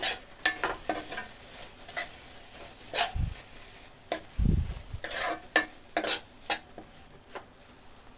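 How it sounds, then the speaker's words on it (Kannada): A spoon stirring ground cinnamon, clove and cardamom in a pan for egg rice, with scattered scraping and clinking strokes, faint sizzling and a couple of low thumps. "ಇವಾಗ ಇದನ್ನೆಲ್ಲನೂ ನಾನು ಚೆನ್ನಾಗಿ ಮಿಕ್ಸ್ ಮಾಡ್ಕೊತೀನಿ"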